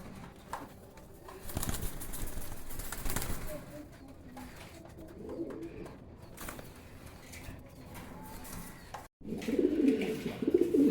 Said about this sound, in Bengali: কবুতরের ডাক দেখেন, অ্যাক্টিভিটি দেখেন, বিশাল বড় সাইজের একজোড়া ইরানি সিরাজি কবুতর